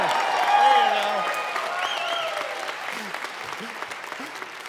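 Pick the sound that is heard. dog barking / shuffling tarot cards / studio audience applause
studio audience applause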